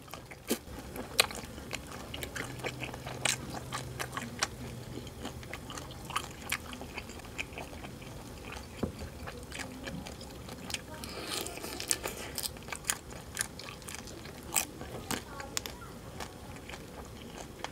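Crispy cheese-wrapped shrimp bitten and chewed close up, steady crunchy chewing clicks and squishes repeating throughout at a soft level, with a brief murmur of voice early on.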